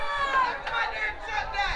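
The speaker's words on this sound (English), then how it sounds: "And the crowd goes wild." A crowd at a Jamaican women's premier league football match between Arnett Gardens and Cavalier cheers and shouts in a lively continuous babble, with a few whistles or high calls rising above the roar.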